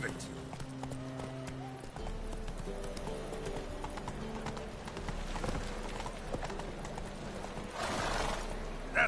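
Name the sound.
horse Roach galloping, from a video game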